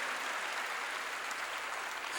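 A church congregation applauds during a sermon, a soft, steady wash of many hands clapping together, distant and even throughout the short burst.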